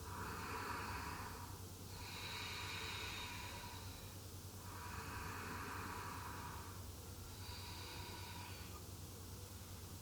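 Slow, steady breaths during a yoga exercise, with several long, faint inhale-exhale cycles repeating at an even pace over a constant background hiss, with no talk.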